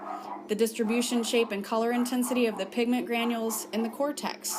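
A pet dog barks, yips and whimpers in short bursts, scattered under a person's continuous lecture-style speech indoors.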